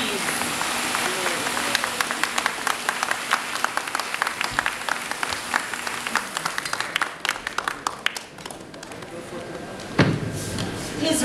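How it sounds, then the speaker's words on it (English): A crowd at the opening of a China trade week in Nairobi, Kenya, gives a sustained round of applause, dense steady clapping with scattered thuds and voices mixed in. "let's give a round of applause as we open the doors to new trade"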